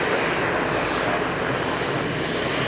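Jet engines of an easyJet airliner at Madeira Island Airport roar loud and steady throughout, a continuous broadband rumble with no voices over it.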